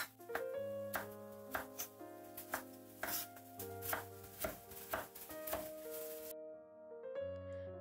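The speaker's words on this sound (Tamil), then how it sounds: "வெஜ்ஜீஸ் சாப் பண்ணிட்டு இருக்க" Bell peppers chopped with a knife on a board, giving a string of crisp, irregular close cuts over soft background music.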